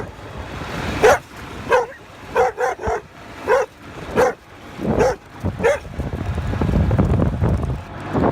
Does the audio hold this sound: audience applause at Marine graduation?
no